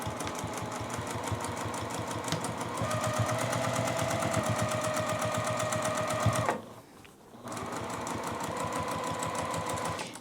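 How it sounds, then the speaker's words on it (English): A sewing machine stitches through thick layers of fabric for a sewn zipper pouch, a rapid, steady mechanical chatter with a brief pause partway through before it resumes at the same pace, close and clear. "I'm going to take a few stitches, I'm going to back off and then come back in"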